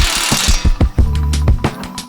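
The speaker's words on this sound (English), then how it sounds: "Take your impact with your 18mm socket and tighten this back down" An impact wrench fitted with an 18mm socket tightens a tie rod nut on a new Ford Bronco, giving a loud close burst of rapid rattling hammer blows that ends with a sustained whirring buzz.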